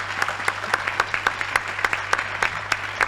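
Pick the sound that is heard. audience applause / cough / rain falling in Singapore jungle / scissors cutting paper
audience applause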